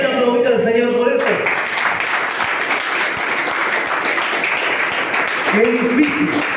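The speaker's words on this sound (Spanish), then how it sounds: "¿Pueden aplaudir al Señor por eso?" Church congregation applauding together, a dense, steady wash of clapping that fills the room, with a speaking voice briefly heard at the start and again near the end.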